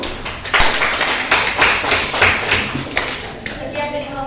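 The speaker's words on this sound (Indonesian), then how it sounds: "beri tepuk tangan dulu untuk kamu." A classroom of students claps in a brief round of applause, uneven and close, with individual claps audible and a few voices murmuring underneath.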